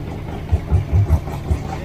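An Ultima Evolution on a dyno sits at a choppy, uneven idle, with low, loping engine thumps arriving in an irregular rhythm close by.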